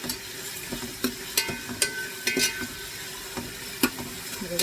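Prawns sautéed over a high flame in a thick-bottomed pot, a loud close sizzle broken by repeated scraping strokes of a spatula at an uneven, steady pace.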